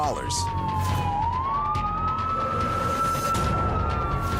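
Sirens of several police cars chasing a stolen vehicle wail and sweep continuously, rising and falling over the steady roar of traffic, fairly loud and close, as several vehicles race by.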